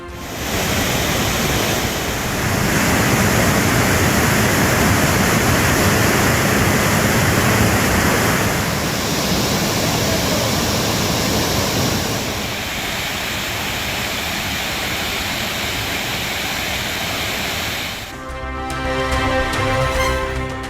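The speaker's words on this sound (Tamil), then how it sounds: "வறண்டு காய்ந்து கிடந்த ஒகேனக்கல் அருவிப்பாறைகள் நனைத்து கொட்டிய தண்ணீர்" Water gushes over the rocks of Hogenakkal waterfall in a constant, loud, broadband roar that holds steady for most of the stretch, before music comes in near the end.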